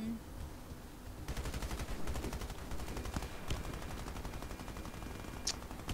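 Gunfire rattles through an online shooter video game in a continuous, close burst of rapid shots with a few sharper cracks standing out, while a player talks faintly underneath.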